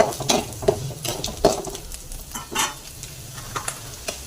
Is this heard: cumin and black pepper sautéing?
yes